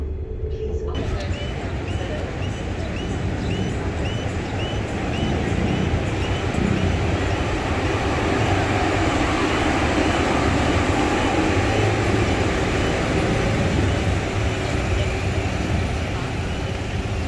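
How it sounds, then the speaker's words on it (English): Steady loud rumble and hum of a KLIA Transit airport rail link train riding at speed toward KL Central, Kuala Lumpur, heard from inside a carriage, continuous throughout with no clear breaks. "This KLIA Transit train is heading to KL Central."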